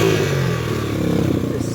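A PitPro 140cc pit bike engine revs steadily out on a rocky wooded trail, a close, loud and continuous buzzing drone with a slight rise in pitch partway through.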